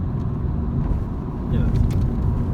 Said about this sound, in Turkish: Evet hemen vites yükseltiyor zaten araç.